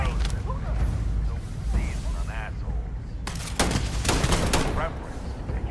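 Gunfire in the video game Dune Awakening, with several loud shots and bursts in the second half over busy game noise, mechanical clatter and creaks.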